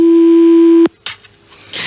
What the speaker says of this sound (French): Ça, c'est le téléphone de quelqu'un, ça va.